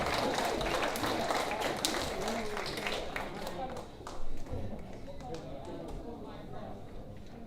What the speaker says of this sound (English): So how about a round of applause for Ryasia?